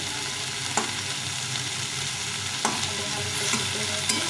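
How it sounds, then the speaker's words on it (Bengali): Potatoes and cauliflower sautéed and stirred in a pan, a steady close sizzle punctuated by a few distinct spatula scrapes and taps against the metal. "ভালো করে কষে নিতে হবে আস্তে আস্তে সেই আলু ফুলকপিটা কষানো হয়ে গেছে"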